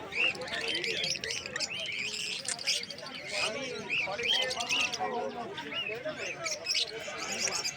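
Finches chirp and tweet at a crowded bird market in Uluberia, the busy high calls layered over a steady crowd murmur and voices.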